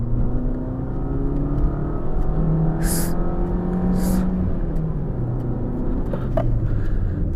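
A Maruti Suzuki Swift VXi automatic hatchback accelerating hard on an open road in second gear, with a loud, steady engine drone and whirring rising in pitch, heard from inside the cabin along with road and wind noise.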